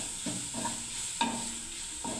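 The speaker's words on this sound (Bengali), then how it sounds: "দেখুন কি সুন্দর করে ভাজা হচ্ছে বিটটাকে।" Grated beetroot fries in a pan for halwa and is stirred in a few scraping strokes over a soft, steady sizzle, close by and fairly quiet.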